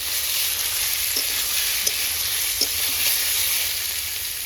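Dried red chili, green chili, garlic and cumin sizzle steadily in hot oil for tempering, a dense close crackling hiss broken by a few small pops.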